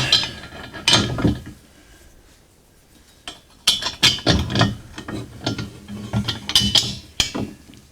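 Bolts and lock nuts are fitted onto the axle of a DR leaf and lawn vacuum during assembly, giving irregular metallic clicks, clanks and ratcheting bursts close by, separated by short quiet gaps, with no talk.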